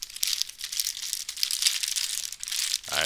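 A plastic package of wet wipes crinkles and rustles as hands squeeze and turn it, a close, busy run of crackles lasting a few seconds, with no speech.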